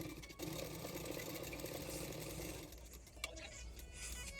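A sewing machine runs quietly while stitching blouse fabric, a soft continuous whirring hum that eases off after a few seconds, followed by faint handling clicks.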